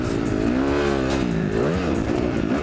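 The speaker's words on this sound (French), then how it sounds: "Vous l'entendez au son, c'est une 4 temps, c'est une 250 les gars." A Kawasaki KX250F four-stroke 250 dirt bike engine revs up and down in rising and falling pulls, loud and close, with a buzzy four-stroke tone.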